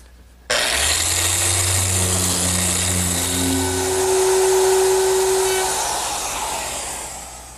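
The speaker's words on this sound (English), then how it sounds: "I want to sand the face frame." Power sander working the wooden face frame of an armoire, a steady loud whirring hiss that starts abruptly and holds for several seconds with a slight swell in pitch before easing, with no talking.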